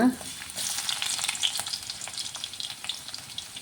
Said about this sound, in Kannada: ಬಿಸಿಯಾಗಿದೆ ಬೆಳ್ಳುಳ್ಳಿ ಹಾಕೋಣ